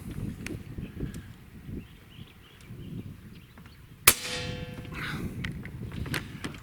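A single sharp shot from an AEA 9mm air rifle punches through a Gotham Steel pan, a loud close crack with a ringing tail, set against outdoor rustle and faint background noise.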